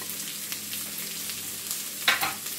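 Chopped onions fry in melted butter with a steady, close sizzle, joined by a brief sharper crackle near the end; no one speaks.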